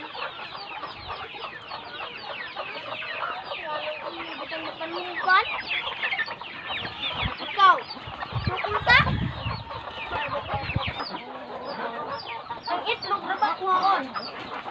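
Rhode Island Red chickens clucking close by on a farm, with repeated cackles and short calls over a steady bed of flock chatter and a few louder bursts, while people talk quietly in the background.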